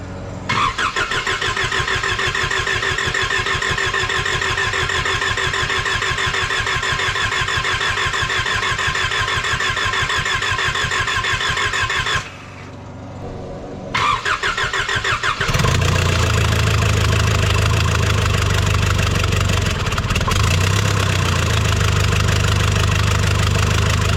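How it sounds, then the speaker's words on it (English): A salvage Nissan Patrol engine cranks with a long rapid starter churn, pauses briefly, then catches and settles into a loud, close, steady idle with a deep low hum. No voices. "so the car has started and it's currently idling well"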